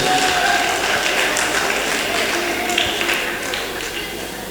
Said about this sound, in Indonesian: Tepuk tangan untuk Ustadz Alvido.